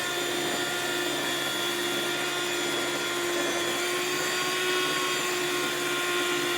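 A CUKAID electric food slicer runs steadily while its blade cuts through soft, gooey bread. The motor gives a loud, continuous whine that holds evenly from start to finish, with no voices.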